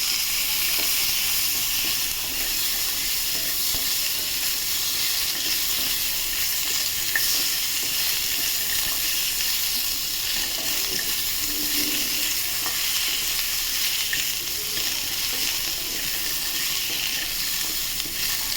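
Ginger, onion, carrot and beans frying over low gas in a pan with garlic, a steady hissing sizzle broken by soft stirring scrapes, continuous and fairly loud with no speech.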